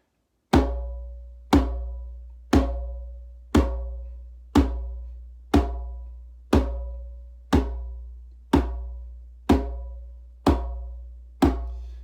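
A steady drum beat of twelve evenly spaced, resonant hits, about one per second, each ringing out and decaying before the next, clear and alone in quiet surroundings.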